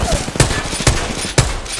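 Gunfire in Apex Legends, three sharp close shots spaced about half a second apart over a busy bed of game noise.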